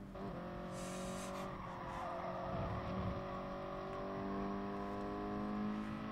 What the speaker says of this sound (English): Try and launch the car into this corner.